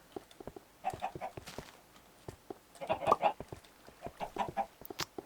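Chickens clucking in Minecraft on an egg farm: a flock gives a busy run of short, sharp clucks in clustered bursts, fairly close and moderately loud, with no talking over them.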